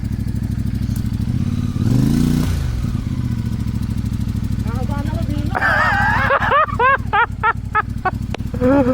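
A motorcycle engine idles with a steady low rumble on a mountain ride, then revs up near the end while people talk and shout over it.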